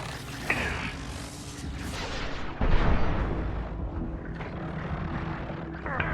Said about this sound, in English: Yeah, shoot him to pieces, please.